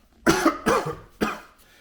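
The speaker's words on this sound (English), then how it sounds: "I'm coughing because the exhaust fumes from those trains is overwhelming" Three sharp, harsh coughs from train exhaust fumes in close succession, each a broadband burst, with brief quiet gaps between them, close to the listener.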